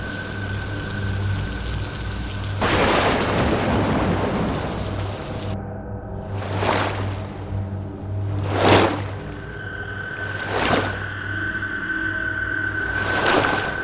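A cartoon thunderstorm with heavy rain, a dense steady downpour joined by several booming thunder crashes in close succession over a low sustained hum, with no voices.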